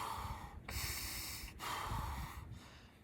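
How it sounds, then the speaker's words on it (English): Deliberate deep belly breathing shown as a demonstration, heard as three loud, close, airy breaths with a snort-like nasal rush, separated by short pauses, with no talking. "Belly breathing looks like this, right?"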